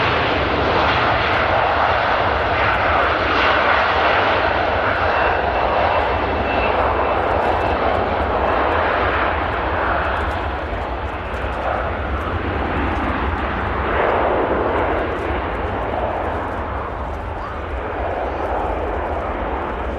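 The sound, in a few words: Virgin Atlantic airliner taking off at Manchester Airport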